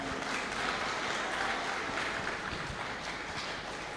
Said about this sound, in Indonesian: Boleh tepuk tangan lagi dong untuk Jauharatul Qalbi.